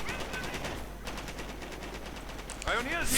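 Machine gun bursts rattle in rapid, repeated volleys during a World War II strategy game battle, with a commentator talking over the gunfire.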